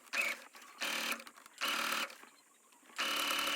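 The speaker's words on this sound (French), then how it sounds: "Et maintenant, direction la machine à coudre pour coudre tout autour." Sewing machine stitching all around the two layers of a skirt's pocket pieces, running in four loud bursts with brief pauses between them, heard alone.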